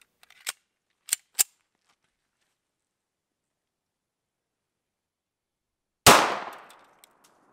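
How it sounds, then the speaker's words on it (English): A single sharp, loud gunshot from a .45 ACP pistol firing 230-grain Federal Premium HST at a car door rings out and decays, preceded by a few quiet clicks of handling. "now let's try the 45 230 grain Federal Premium HST"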